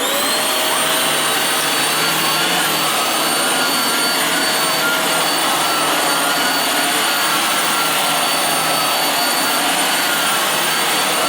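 A Hoover Windtunnel Air upright vacuum cleaner runs continuously at close range, a loud steady whine and roar over carpet that stays level throughout with no talking.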